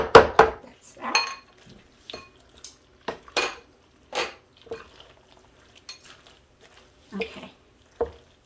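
Macaroni salad being stirred in a bowl, with a spoon or utensil clinking and scraping against the dish in irregular bursts separated by short pauses.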